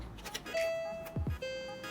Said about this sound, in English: so this one is a doorbell.